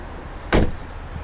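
The hood of a 2017 Nissan Maxima with a 3.5-litre engine pops open in one short, sharp release clunk that stands alone against quiet background.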